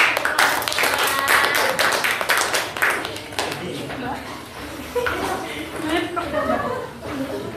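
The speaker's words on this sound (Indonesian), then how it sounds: "Oke, kasih tepuk tangan." Classroom applause from a class of students after a group presentation, steady dense clapping that carries on for several seconds, loud and close with some chatter mixed in.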